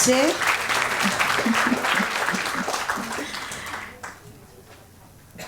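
An audience at an international conference applauds after a presentation, with strong sustained clapping and voices mixed in, tapering off after about four seconds into near quiet with a few stray claps.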